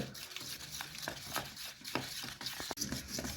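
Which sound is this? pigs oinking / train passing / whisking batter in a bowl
whisking batter in a bowl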